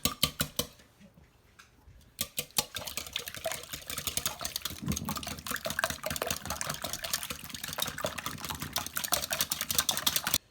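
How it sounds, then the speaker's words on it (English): Egg yolks whisked in a bowl for a veggie quiche, a steady stream of quick metallic clinks and scrapes close by, starting after a short pause and running on without talk. "Just give this a good whisk first."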